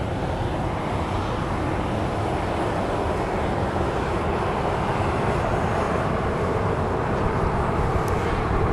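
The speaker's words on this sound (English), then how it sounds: "So yes, this is flight 3171, a 737-700 going to Nashville." A Boeing 737-700 jet at Dallas Love Field roars steadily in broadband engine rumble, loud and constant throughout with no talk.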